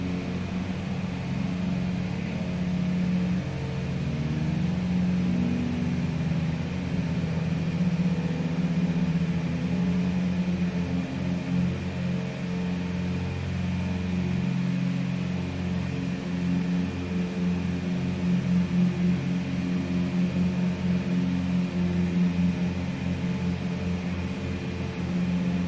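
Simulated twin-engine Beech Duchess piston engines running steadily in a flight simulator, a constant loud drone with harmonic hum that holds level throughout, no voices.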